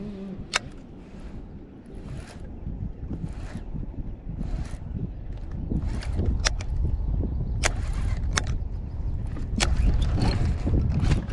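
Wind buffets a bass fishing boat out on open water, a steady low rumble of gusts against the microphone that builds gradually, with scattered sharp knocks and clicks from the boat, and no talking.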